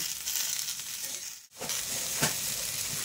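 Malabar spinach (pui shak) fries in a pan with a close, hissing crackle. The sizzle breaks briefly halfway through, then comes back with a sharp flare.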